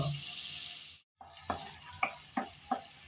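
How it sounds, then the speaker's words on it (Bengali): Spice paste for hilsa curry frying in oil, a soft continuous sizzle that cuts out briefly, then returns with four evenly spaced knocks of a spoon stirring against the pan. "নেড়ে চেড়ে ভালোভাবে কষিয়ে নিলাম।"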